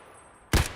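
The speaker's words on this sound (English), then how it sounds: "They're shooting at something." A single distant burst of gunfire in Escape From Tarkov, a short muffled crack after a quiet stretch, heard alone.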